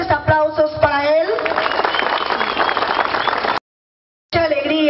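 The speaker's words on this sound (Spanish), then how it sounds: "al cual pido fuertes aplausos para él" Strong applause with crowd noise for Manuel Valverde, candidate for the regional presidency, at a political gathering in Lambayeque. It runs steadily for about three and a half seconds, stops abruptly, and a voice then begins speaking.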